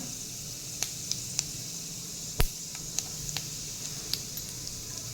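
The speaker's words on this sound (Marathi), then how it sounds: "इथे कढईमध्ये मी दोन चमचे तेल घेतलेलं आहे त्याच्यामध्ये आता जिरं घालूया हिंग घालूया" Cumin seeds and asafoetida sizzling in two spoons of hot oil in a kadai, a steady soft hiss with a few sharp crackles and pops scattered throughout and one louder snap midway, close and fairly quiet, no talking.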